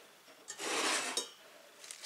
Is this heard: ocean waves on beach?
no